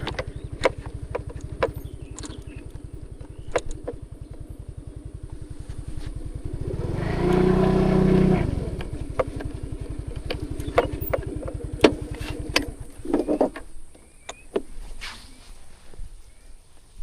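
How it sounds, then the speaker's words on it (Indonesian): A motorcycle engine chugs steadily with rattling and clattering over a rough, difficult village road, revving louder briefly in the middle before settling back. "Numpak motor dalannya angel."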